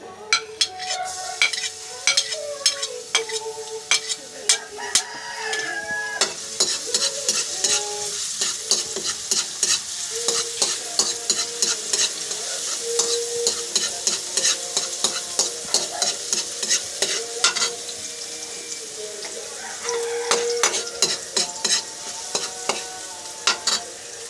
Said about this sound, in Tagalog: Pag mainit na siya, lagay na natin yung bawang.